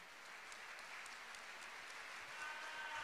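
Audience applauding award winners at a study-incentive prize ceremony, a steady, fairly faint patter of clapping hands that swells slightly toward the end.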